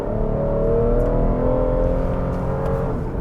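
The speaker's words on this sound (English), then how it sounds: "But that V6 does have a nice grunt to it." A 2021 Toyota Highlander XSE AWD's V6 engine revs in sport mode while brake-torqued, a loud, steady, close-up growl that holds for a few seconds and then eases slightly as power is cut.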